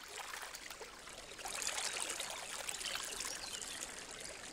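Carbonated spring water bubbles up into a forest stream in the Serbian wilderness, making a soft, continuous trickling and gurgling hiss that swells slightly midway.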